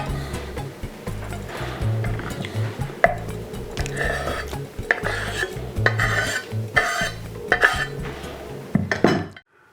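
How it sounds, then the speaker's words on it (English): A knife chops tomatoes for pico de gallo in repeated uneven strokes, with clunks and scrapes on the board and clinks of utensils running throughout at close range. "we got all those tomatoes cut up and put into the Pico de Gallo"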